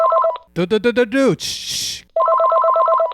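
A telephone rings in a repeating electronic trill, loud and close, before and after a burst of talk and a hissing shush, then the ring resumes steadily.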